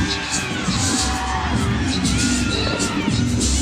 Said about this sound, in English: Teammates behind her cheering her on.